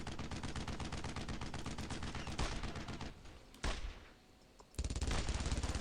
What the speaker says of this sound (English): Someone's going to jump onto that machine gun right behind me.